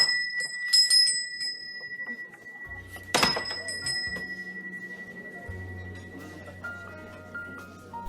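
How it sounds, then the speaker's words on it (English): A bell hung on a cafe door clangs with a bright ring as the door opens, then trails off; faint room noise and a low hum continue afterward. "we've just clanged the bell on the door"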